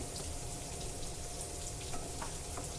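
Kolam vadi pieces fry in a pan over a medium flame, making a steady, fairly quiet hiss and sizzle with a few faint pops and no talking.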